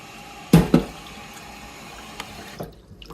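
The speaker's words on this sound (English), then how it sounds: "Go ahead and add a little bit of water." Water poured from a cup into a crock pot for a slow-cooked dinner, two quick splashy bursts early on followed by faint trickles and a small clink, close and moderately loud with no talking.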